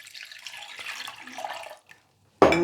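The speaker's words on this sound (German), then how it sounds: "dann spüle ich das Ganze ab" Tap water running into a sink to rinse out a tomato passata container in a home kitchen, a steady hissing splash that stops briefly and then resumes loudly and close.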